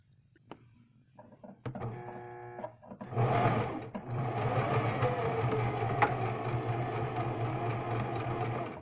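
A sewing machine stitches buttonholes on a dress. A few faint clicks come first, then a brief tone, then a steady, fairly quiet mechanical whir that runs continuously for several seconds.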